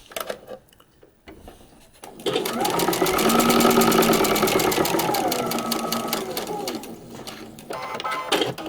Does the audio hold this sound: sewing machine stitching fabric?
yes